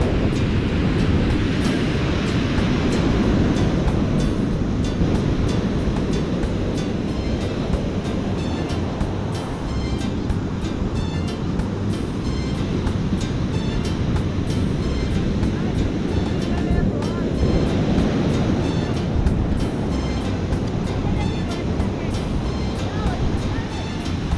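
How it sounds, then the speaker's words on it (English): Ocean surf breaking on Jaco Beach makes a loud, steady, broad roar of crashing and washing water that continues throughout. "I'm just here to enjoy the beach and the sights and the sounds"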